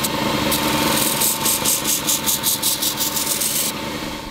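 A freshly sharpened paring knife edge is rubbed against an abrasive, giving a steady, close gritty rasp with a rhythmic series of brighter scraping strokes in the middle, running continuously with no talk.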